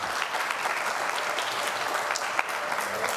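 Applause from a church congregation at an Easter Vigil Mass, steady dense clapping filling the whole moment at moderate distance, with no voices standing out.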